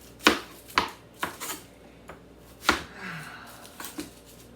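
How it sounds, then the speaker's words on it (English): Onions being cut on a board, a series of sharp, distinct knife chops at irregular intervals, close and clear with quiet gaps between strokes. "Let me cut up the onion."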